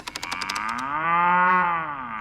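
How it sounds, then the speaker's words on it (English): A cartoon cow gives a single long, loud moo that rises and then falls, opening with a few quick clicks before the call. "This is a cow."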